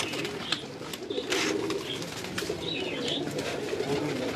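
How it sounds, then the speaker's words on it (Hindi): Mixed-breed pigeons coo softly on a rooftop, a steady low murmur of overlapping calls with faint chirps and ambient noise throughout. "कुछ मिक्स कबूतर हैं"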